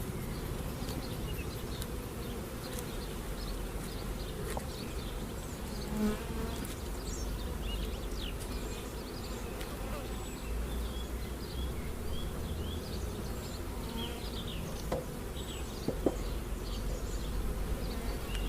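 Honey bees buzzing around an open hive while a nucleus colony is split off, a dense steady hum with a few individual bees flying close past.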